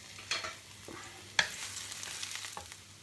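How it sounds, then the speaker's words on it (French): Crushed garlic fries quietly in a pan under a soft, low sizzle. A utensil stirs it now and then, making a few clear scraping clicks, and no one talks. "Je remue"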